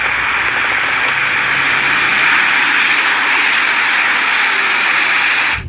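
Military airplane engine roaring steadily and loud throughout, a continuous broad jet-like drone that stays constant before cutting off abruptly at the end.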